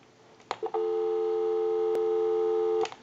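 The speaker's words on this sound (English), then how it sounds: "give you some dial tone" A steady dial tone from a 3-slot payphone 236G sounds after a couple of handset clicks and holds evenly for over two seconds before cutting off with another click.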